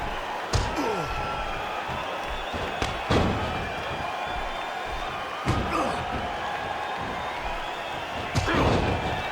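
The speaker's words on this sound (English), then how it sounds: "the sound of human flesh on the ground echoes around the arena" Thuds and slams of a wrestler's body hitting the ring mat in WWE Smackdown vs RAW 2011, several sharp impacts spaced a few seconds apart over steady arena crowd noise.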